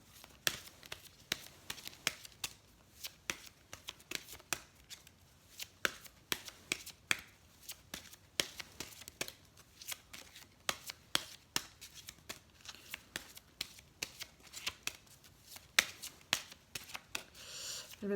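Angel oracle cards are shuffled by hand in a quiet room, a long run of rapid, crisp riffling and snapping taps in uneven bursts.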